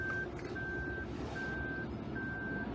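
A 2021 Toyota Rush 1.5 G automatic's parking sensor beeps in four steady, evenly spaced tones over a low idling hum, close and clear with no talking.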